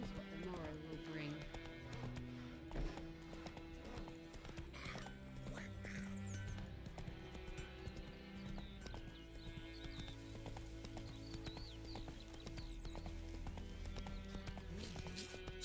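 Horse hooves galloping in Witcher 3, a steady rapid clip-clop running throughout under game music and ambience, with a brief whinny and a voice speaking over it.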